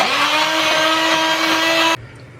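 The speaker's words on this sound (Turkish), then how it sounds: "blenderdan şöyle iyice geçiriyorum." A blender puréeing softened tomatoes whirs loudly at high speed with a steady motor whine and churning, running continuously before abruptly switching off.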